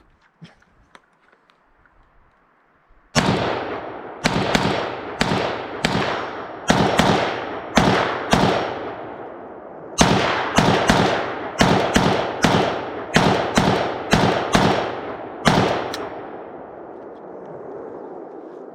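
AK rifle with a 7.62 barrel firing at an outdoor range: a quiet lead-in, then a long run of loud, sharp shots in uneven bursts with echoing decays.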